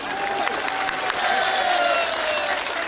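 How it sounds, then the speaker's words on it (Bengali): A crowd of sanitation workers clapping together at a gift-giving ceremony, continuous dense applause that stays steady and fairly loud throughout. "সবাই হাততালি দেই।"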